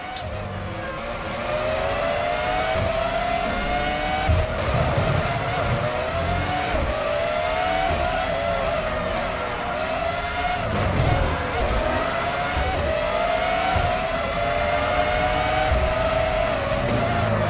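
Formula 1 race car in the PS2 game F1 2005, engine droning and revving steadily at close range for the whole stretch, with tyres skidding through corners and pitch rising and falling with each gear change.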